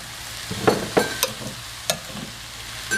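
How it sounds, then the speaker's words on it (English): Cabbage, apples and garlic cook in a skillet under a soft sizzle, punctuated by several sharp clinks and scrapes of stirring at irregular intervals, close by with no talking. "We're going to stir in the broth."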